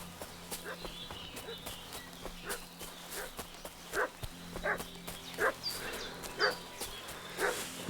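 A dog in the video game Kingdom Come Deliverance 2 barks repeatedly at Bajena's, sharp yips and barks coming in irregular bursts over a faint outdoor ambience with soft footsteps.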